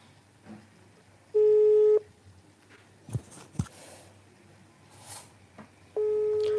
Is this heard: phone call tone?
yes